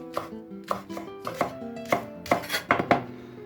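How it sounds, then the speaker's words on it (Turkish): Knife chopping spinach and herbs along with their stems on a board, about a dozen crisp, close cuts in an uneven rhythm, without any voices. "Daha sonra sapları ile beraber bu arkadaşları doğruyorum."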